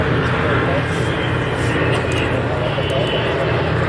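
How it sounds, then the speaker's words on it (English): A Douglas C-47 propeller transport coasts down the show line at a Michigan air show, its engine drone steady and broadband throughout under continuous outdoor noise, fairly near. "Asian stripes on it as he coasts down the show line here. The C47."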